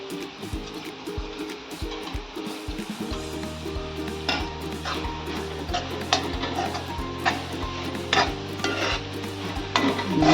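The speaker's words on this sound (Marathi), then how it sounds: "आता हे सगळं झालंय मिक्स करून." Pea curry being stirred in a pan gives repeated close scraping and clinking of a spoon against metal over a soft sizzle, with sharper knocks toward the end.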